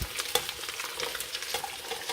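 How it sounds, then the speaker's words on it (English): Chopped carrots, rutabaga, celery, zucchini and onion hitting a very hot pan, crackling and hissing with scattered pops and stirring scrapes, close and steady with no talk. "I'm just going to put all this in here while this pan is super hot right now"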